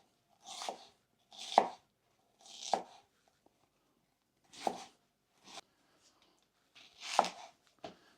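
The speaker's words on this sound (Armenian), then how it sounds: "անհրաժեշտ է սոխը կտրատել։" A knife chops onions into rings on a cutting board, six or seven separate crisp thuds spaced unevenly, close and clear with quiet between cuts.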